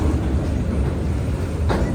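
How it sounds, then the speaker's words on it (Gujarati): A long train passes a level crossing, a loud, steady rumbling roar close by for the whole stretch with a brief rising whoosh near the end. "મસ્ત મજાની ટ્રેન"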